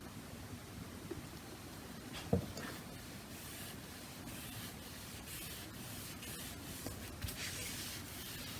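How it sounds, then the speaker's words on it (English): Clear coat sprayed from a can onto a handmade wooden warhammer, faint soft hissing bursts with a few light clicks and rubs, quiet and close with no talking. "now I'm going to clear coat this whole thing to help protect it."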